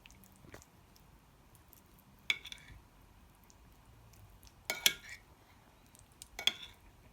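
Dal fry being mixed into rice on a plate by hand or spoon, soft squishing under a quiet background with a few sharp clinks of cutlery against the plate.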